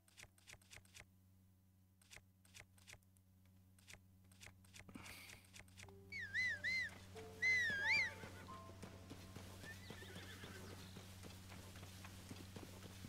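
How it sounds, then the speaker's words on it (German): A horse in The Legend of Zelda: Tears of the Kingdom snorts and gives a couple of clear neighs after a run of soft hoof clops and chewing-like clicks, fairly quiet overall with no talk. "Nun bist du ja mein Pferdchen."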